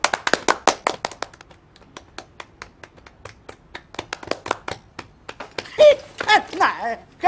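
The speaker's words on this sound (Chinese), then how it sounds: "鼓掌！" A scattered group claps in a kung fu film, giving sharp, evenly spaced hand claps that thin out and slow before voices break in near the end.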